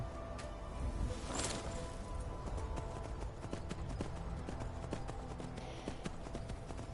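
Horse hooves clip-clopping at a run in Skyrim, a steady rhythmic patter of footfalls over continuous game ambience, fairly loud and close, with no talk.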